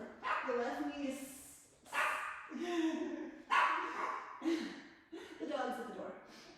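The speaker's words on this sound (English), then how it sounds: "My dog is at the door." A dog barks and yips in short bursts at a door, fairly close and loud, with a brief whimper among the calls.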